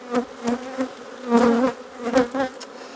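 Honeybees buzz steadily at an open beehive during an early-spring inspection, a dense close drone that swells and fades as insects pass near, with no talking.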